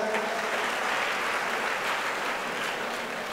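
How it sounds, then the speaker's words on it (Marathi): A hall audience at a celebration event claps hard and continuously, a dense, loud wash of applause lasting the whole stretch with no voices over it. "बाळू बुधवन सर यांच्यासाठी पण एकदा जोरदार टाळ्या होत्या"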